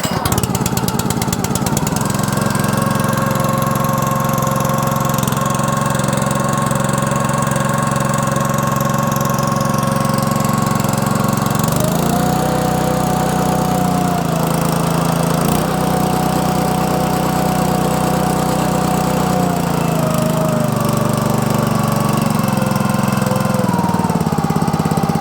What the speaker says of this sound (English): Listen to that little Honda engine just purr.